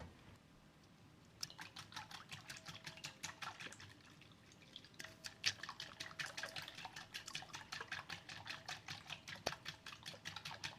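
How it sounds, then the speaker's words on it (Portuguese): A little water poured into a cup of milk while cooking, with a thin trickle and rapid dripping taps running steadily through most of the stretch, fairly faint with no talking. "E aí eu coloco um pouquinho de água"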